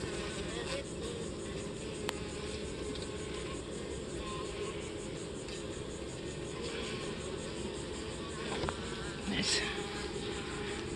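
Honeybees in an opened hive chasing small hive beetles: a continuous close buzzing drone of many bees outdoors, with brief faint clicks and knocks.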